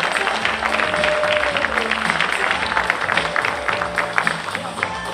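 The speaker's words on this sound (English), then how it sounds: "Would you give a big round of applause to Vanessa Harrison as Mary?" Applause from a church-pageant audience for the actress playing Mary in a nativity performance, a steady, dense clatter of many hands filling the room with cheering voices mixed in throughout.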